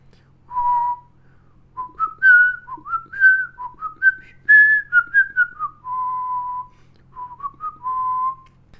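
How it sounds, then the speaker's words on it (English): A person whistles clear, pure notes up close, a loud wavering melody of short and held tones that rises and falls over several seconds against a faint low hum. "let me try whistling, right? Ooh, very clear notes."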